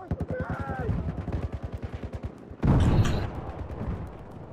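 An ACE 23 rifle fires during a Battlefield 4 Rush match on Dragon's Teeth, with a rapid, evenly spaced string of shots followed by a louder, sustained burst of heavy gunfire.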